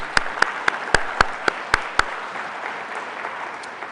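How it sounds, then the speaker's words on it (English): Applause at the opening address of a robotics conference (RSS 2022) after sponsors are thanked: a few sharp, separate claps near the front over a soft crowd wash, fading out after about two seconds. "Let's give them all a round of applause."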